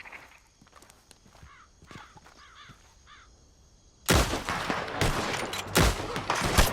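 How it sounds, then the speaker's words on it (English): Gunfire in Red Dead Redemption 2 breaks out suddenly and loud, rapid overlapping shots after a quiet stretch of footsteps and crow caws in the open. "Let's just start shooting."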